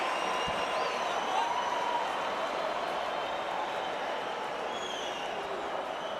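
A cricket crowd applauding a shot at the 2019 India vs South Africa third Test: steady, wide applause and crowd noise that holds at an even level throughout, with faint voices in the mix.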